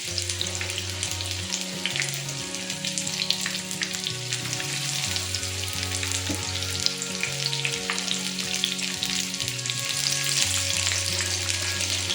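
A second batch of pineapple pieces fries in hot oil, giving a continuous dense crackling sizzle at a steady, fairly loud level throughout with no talking.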